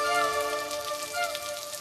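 Rain falls steadily in an outdoor setting, a soft continuous patter and hiss of drops on surfaces with faint tonal background music running beneath, no talking.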